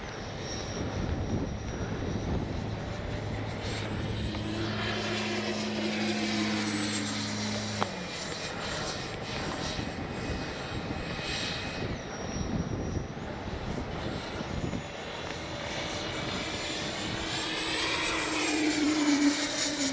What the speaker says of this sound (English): I love the howl this thing makes.